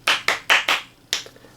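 Five sharp hand claps in quick succession, loud and close, the first four evenly spaced and the last after a short pause, with no other sound.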